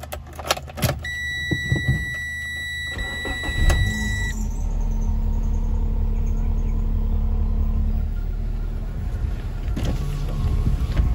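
A Chery QQ3 engine cranks and catches, then settles into a steady low idle rumble with a few clicks and thumps around it.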